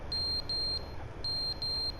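An alarm in the video game The Stanley Parable beeps in sustained high electronic tones, two long beeps, a short pause, then two more, steady and clear over a faint room hum.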